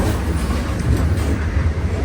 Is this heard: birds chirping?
no